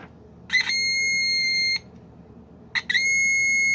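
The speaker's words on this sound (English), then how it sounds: "It starts to beep even though I am not pressing this." A faulty doorbell circuit board beeps on its own when powered: two long, steady electronic tones, each opening with a brief chirp and cut off abruptly, separated by a quiet gap over a faint background hum.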